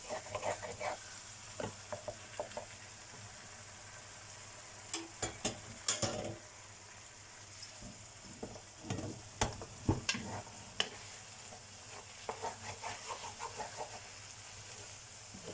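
Vegetables for a vegetarian lasagne frying in a pan, a quiet steady sizzle with intermittent scraping and tapping as they are stirred, close by and without talk.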